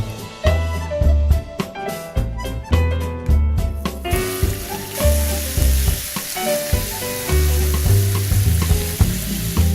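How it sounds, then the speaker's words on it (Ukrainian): Chicken sizzles and crackles loudly in hot vegetable oil over high heat, with stirring clatter and scraping in the pan; the frying hiss grows fuller partway through. "Обсмажуємо в рослинній олії на сильному вогні протягом 8 хвилин"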